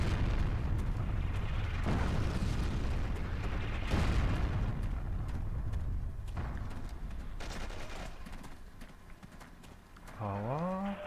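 Artillery shells explode during a World War II desert multiplayer battle in Forgotten Hope 2, with heavy booms and dense rumbling blasts running throughout, continuous gunfire mixed in, and a voice at the end.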